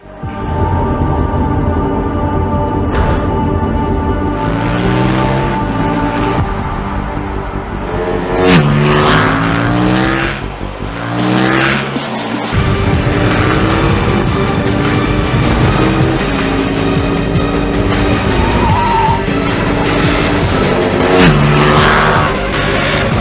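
A KTM 1290 Super Duke R motorcycle is ridden hard, its loud engine revving up and shifting through gears in repeated rising sweeps, with a brief hard deceleration partway through and continuous riding noise throughout.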